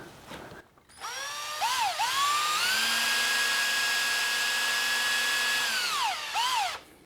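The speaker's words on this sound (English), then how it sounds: "I have a driver for my drill, and we stick a bunch of M3 bolts" A cordless drill driving M3 bolts through foam whines up, holds a long steady high-pitched spin, then winds down, with short revving bursts at the start and end.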